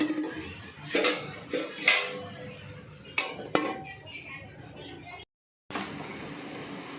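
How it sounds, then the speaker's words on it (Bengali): Metal clatters and knocks as a lid goes onto a pan of cooking drumstick flowers: several close, sharp clinks, then a brief total silence before the kitchen noise resumes. "এবারে আমি আবার ঢাকনাটা চাপা দিয়ে দিচ্ছি"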